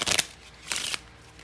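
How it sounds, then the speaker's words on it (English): A deck of playing cards is shuffled in two quick riffling bursts, each a crisp fluttering rush separated by a short pause, close and clear with no talking. "So the rest of the deck, you can shuffle them up as well."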